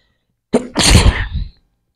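A person sneezes once, loud and close, with a sharp intake followed by a burst of breath that trails off, set against near silence.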